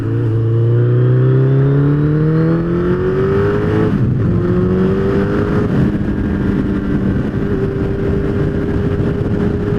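A loud motorcycle engine revving up steadily, its pitch climbing in long sweeps as it accelerates, with a brief shift partway through and continuous drone throughout.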